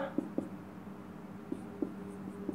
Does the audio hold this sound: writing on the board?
yes